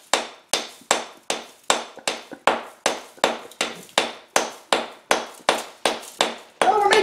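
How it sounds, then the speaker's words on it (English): A plastic hammer strikes a gold and diamond Dig It blind box about fourteen times in a steady rhythm of sharp, close knocks, each ringing briefly before the next. "We're hitting it with a friggin' plastic hammer"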